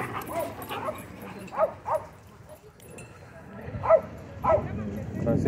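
Several dogs yip and bark in short bursts at a dog park entrance, some whimpering, mixed with people talking nearby outdoors.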